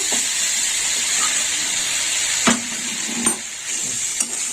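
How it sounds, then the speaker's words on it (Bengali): Green pea and khoya curry sautéing in a pan gives a steady, close sizzle throughout, broken by three brief scraping stirs of the spoon. "এইভাবে কষিয়ে কষিয়ে রান্না করতে হবে তরকারিটা"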